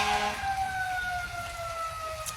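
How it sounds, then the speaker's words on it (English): An ambulance siren passes by outdoors, a wailing electronic tone sliding slowly downward in pitch, moderately loud over a rumbling background of traffic. "pray for those people in that ambulance that's going by"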